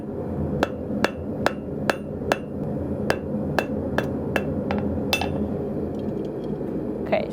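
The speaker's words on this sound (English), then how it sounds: "you want to peen out the ends just a little bit" Hammer peening the ends of forged steel stock for chest handles, a steady series of about a dozen sharp ringing metallic strikes spaced under a second apart over a continuous low workshop hum, close and loud, with no speech.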